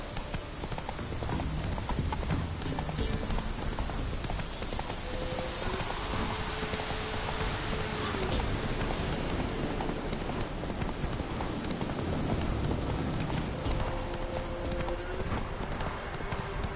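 Horse hooves clip-clop steadily through rain in The Witcher 3, a constant patter of rainfall under the rhythmic hoofbeats, with a faint neigh now and then.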